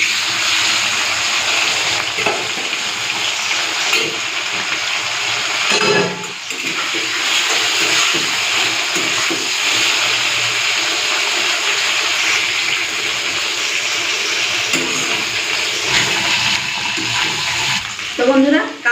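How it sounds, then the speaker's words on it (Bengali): Fish fries in hot oil with black mustard seed in the pan, a steady loud sizzling hiss that continues throughout with brief stirring disturbances. "এখন এই মাছগুলোকে একসাথে ভেজে নেব"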